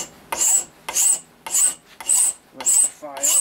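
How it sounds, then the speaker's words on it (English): Hand file rasping across soft metal on a foundry lid, six steady back-and-forth strokes with short pauses between, close and loud, no talking. "With the file."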